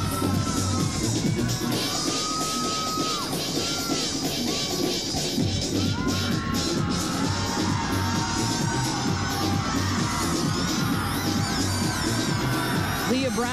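A gymnastics arena crowd at the 1997 NCAA Women's Gymnastics Championships cheers Leah Brown's performance, a dense, loud, continuous roar of shouts and whoops that never lets up, with voices mixed into the din.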